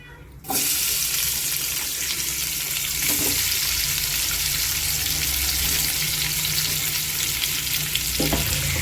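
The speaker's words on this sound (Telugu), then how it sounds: "ఒక గిన్నె తీసుకొని ఒక స్పూన్ నూనె అనేది వేసుకొని లైట్గా ఉల్లిపాయలు అనేది మనం వేపుకోవాలి" Onions frying lightly in a spoonful of oil in a pot for egg gravy give a steady, close sizzle that starts abruptly and holds at an even level, with a few faint stirring knocks and no talk.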